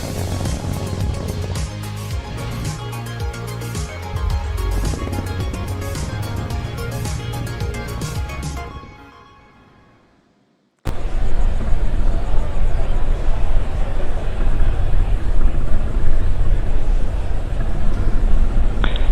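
Rocket launch in Kerbal Space Program: a loud continuous roar with music-like layers, fading to near silence for a moment, then a broad rushing engine roar resumes and holds steady to the end.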